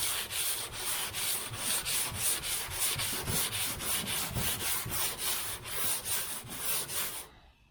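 Hand sanding car paint with 180-grit sandpaper on a small block, using broad strokes: a steady, close, rhythmic rasp of repeated back-and-forth passes that stops abruptly at the end.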